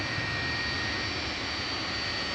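Jet2 Boeing 757-200, a 36-year-old airframe, departing Manchester Airport for Thessaloniki, its jet engines giving a steady, broad roar with a high whine that holds evenly throughout, moderately distant and with no voices.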